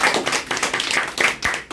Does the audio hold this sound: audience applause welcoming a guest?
yes